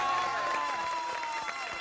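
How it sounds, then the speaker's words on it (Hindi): An audience at a Republic Day gathering for India claps loudly and steadily in a dense continuous wash, with a faint tone running underneath and no clear voices over it. "हमारे देश भारत के लिए जोरदार तालियां बजाइए"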